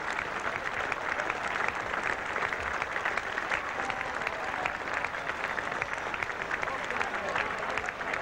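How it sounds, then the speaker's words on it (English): Sustained applause from a cricket crowd at a 1977 England versus Australia test match, steady and fairly distant, lasting throughout without a break. "Applause too for the Australians who battled away hard"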